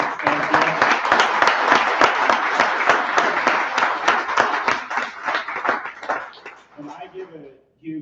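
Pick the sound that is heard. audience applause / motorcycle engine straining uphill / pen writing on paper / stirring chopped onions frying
audience applause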